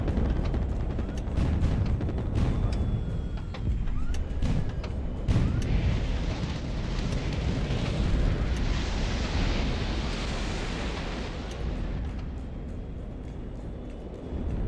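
Missile blasts in a video game rumble as a heavy, continuous roar of explosions with scattered sharp hits, loud and dense throughout, fading slightly toward the end.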